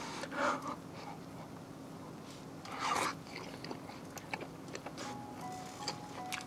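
Someone bites into and chews a grilled scallop with butter soy sauce at a home barbecue, giving two soft, close, wet crunching bites among faint chewing and background ambience.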